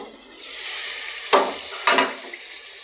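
Spices for a chicken and snake gourd curry frying in oil in a pan, a steady close sizzle broken by two short louder hissing bursts as the mixture is stirred.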